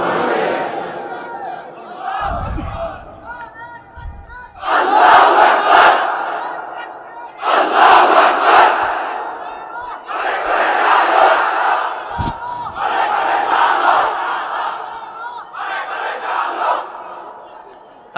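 A large crowd at an outdoor Islamic religious sermon gathering in Bangladesh shouts the takbir response "Allahu Akbar" in unison, several loud, repeated bursts of massed voices answering a leader's call, separated by brief pauses.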